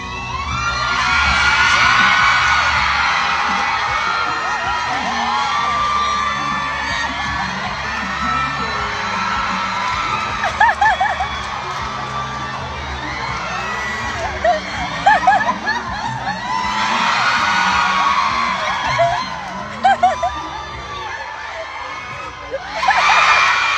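Lively crowd of children and adults cheering, shouting and whooping together during a timed game at a party, loud and sustained, with bursts of laughter and sharper peaks near the end.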